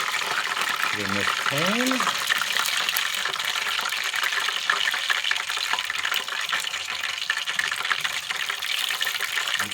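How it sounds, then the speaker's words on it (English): Frying fat being drained from a pan of freshly cooked fish and potato scallops, a steady close sizzle and pouring rush that runs throughout, with a brief spoken remark over it near the start. "just drain off a little bit of the fat there."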